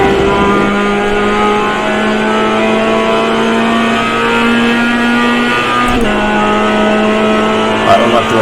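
Race car engine of a GMX5 held at full throttle on a straightaway at Summit Point in iRacing, a loud steady harmonic drone that climbs gradually with one brief dip near the end, under voice talk.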